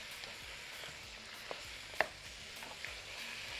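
Chicken frying with onions in a pot, a steady soft sizzle and hiss with a few faint scrapes and taps of stirring, fairly quiet and continuous.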